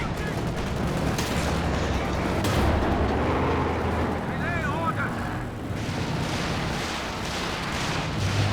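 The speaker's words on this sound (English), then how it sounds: "Stuka barrage coming in" Stuka dive bomber barrage in a World War II real-time strategy game, with dense rumbling explosions and crackling blasts rolling continuously, a descending siren-like whine partway through, all loud and close.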